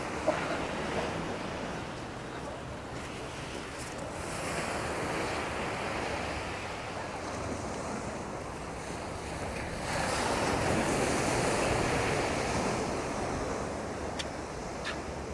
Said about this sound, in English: So we're just next to the beach now, walking along.